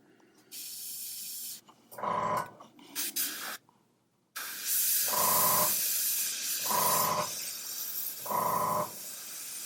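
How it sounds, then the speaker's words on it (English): Spray paint hisses from a can onto a quarter-scale Hellboy model in several separate bursts, each a loud, close, airy spray lasting about a second, with quieter gaps of handling noise between them. "the area I want to spray, the paint doesn't come out."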